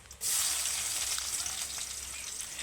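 Crocodile fish sizzles loudly in hot mustard oil as it is stirred, a dense, steady frying hiss that starts abruptly and holds without pause.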